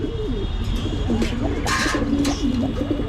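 Pigeons coo and call close by in a loud, continuous exchange of throaty, rolling coos, with a few sharper notes breaking in.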